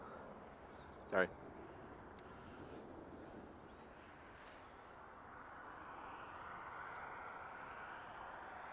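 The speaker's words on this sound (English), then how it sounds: "Oh look, a plane." A fixed-wing airplane passes at Dublin Airport, its engine drone a broad, steady rumble that builds gently toward the end under a brief spoken remark near the start.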